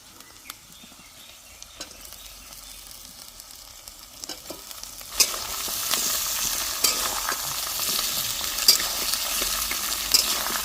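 Chicken feet dropped into a pan of fried onion and stirred, quiet scraping and clinks at first, then a loud, bright sizzle bursting up midway and continuing with spatula taps.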